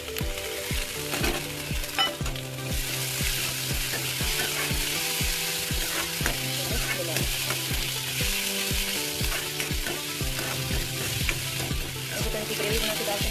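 Chopped tomatoes and onions fry in a pan with a steady, bright sizzle, while a utensil scrapes and taps in a regular rhythm over music playing underneath; close and continuous, with no speech.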